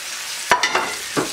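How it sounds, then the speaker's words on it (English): Onions are tipped back into a hot pan of frying liver, giving a few sharp clatters and stirring bursts over a continuous soft sizzle, with no voices. "You just put your onions right back in there."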